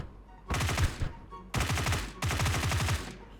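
Rapid automatic gunfire in a close-range shooting video game, three loud bursts of quick repeated shots separated by short pauses, with no talk.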